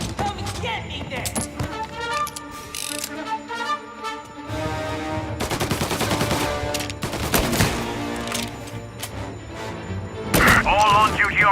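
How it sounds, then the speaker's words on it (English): Automatic gunfire bursts and crashes from the Mafia II Definitive Edition video game, rapid volleys layered over a driving music score with short pauses between, loud and close throughout. "All on-duty officers, gunshots being reported."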